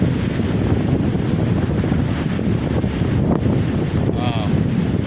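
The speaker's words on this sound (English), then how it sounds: "the gust of wind that's hitting the tent" Strong, steady wind gusts roar against an Alps Mountaineering Grey Cliff tent pitched by the water during a windstorm, a loud, unbroken buffeting that fills the whole stretch.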